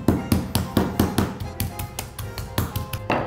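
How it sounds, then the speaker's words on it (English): A hammer pounds chicken slices to tenderize them, about a dozen sharp, evenly paced thuds close by, with a brief pause midway before the blows resume. "Take the chicken and just hammer it a little bit."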